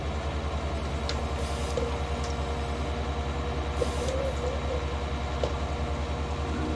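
An old tractor in disrepair on a farm, its engine running at a steady low idle-like rumble throughout, moderately close with a few faint clicks and knocks on top.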